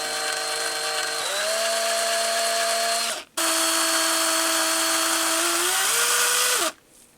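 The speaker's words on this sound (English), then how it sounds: "when you put the drill in" A power drill whines loudly and steadily as it bores through a metal lock cylinder, its pitch dipping under load, pausing briefly before running again, then stopping.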